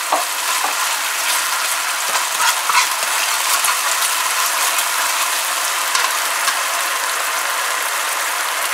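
Stir fry veggie sauce thickened with cornstarch sizzling steadily in a hot pan, a bright continuous frying hiss with occasional small pops, loud and close throughout.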